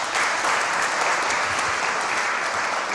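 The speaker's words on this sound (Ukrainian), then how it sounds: "Ваші оплески." A crowd applauds steadily for a few seconds at a Ukrainian ceremony honoring young rescuers, a dense wash of clapping at even loudness throughout.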